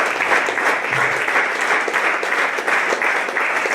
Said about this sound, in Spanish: Le damos un aplauso fuerte a nuestro Dios.